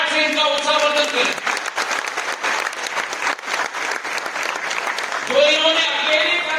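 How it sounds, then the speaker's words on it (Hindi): An audience at a national water conference breaks into loud, dense clapping between stretches of an amplified voice speaking before and after, the applause swelling in the middle and fading as talk resumes. "तालियों की गड़गड़ाहट से इनका उत्साहवर्धन करें"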